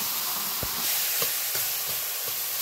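Taro leaves hitting a hot pan with turmeric-and-salt shrimp, giving a steady close sizzle and hiss with a few brief stirring knocks and no talk.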